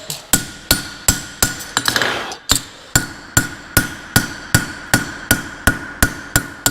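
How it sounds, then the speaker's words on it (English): A farrier strikes the heel edge of a horseshoe with a hammer, boxing it off; about fourteen sharp, ringing metallic blows fall at an even pace with a brief pause partway, loud and close. "Makes the heel much faster to rasp if you do that little bit of hammer boxing."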